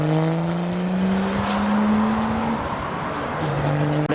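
A BMW E36 Touring turbo diesel driving away from a car show, its engine droning and rising in pitch as it pulls off nearby, with no talk.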